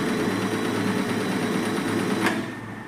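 An Usha Allure DLX sewing machine stitches fabric with a steady, rapid mechanical whir and a fast needle rhythm, running close and loud before slowing down near the end, with no talk.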